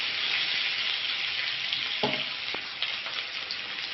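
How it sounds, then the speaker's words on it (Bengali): Steamed potatoes and onions fry in a pan, a steady, loud sizzle with a few stirring knocks and scrapes near the end, close and without voices. "আমি পেঁয়াজের সাথে আলুটা ভাজা করে নেব"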